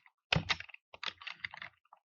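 Linux command being typed on a computer keyboard during an Ubuntu tutorial, a quick cluster of keystroke clicks followed by a longer, lighter run of taps, close up and with no talk.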